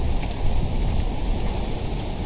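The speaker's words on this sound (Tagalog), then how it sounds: "Hangin diri may kusog." Strong northerly wind on an island, a steady, loud, rumbling roar buffeting the microphone without pause, with no voices.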